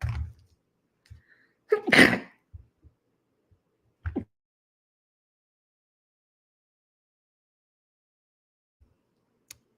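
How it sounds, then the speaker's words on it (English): A single loud sneeze bursts out of near silence, followed by a few soft thumps and rustles, then quiet. "Hold on, wait, I got to sneeze."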